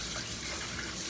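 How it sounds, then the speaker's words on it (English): Running water rinses kitchen utensils in a catering kitchen, a constant close gushing rush that fills the whole brief moment. "Now we're actually gonna rinse this. Nice good rinse, solid rinse,"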